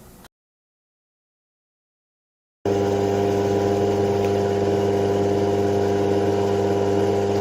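A brushless DC motor coupled back to back with a second BLDC motor acting as a generator runs with a steady, loud mechanical hum after a brief cut of silence, continuous and unchanging to the end.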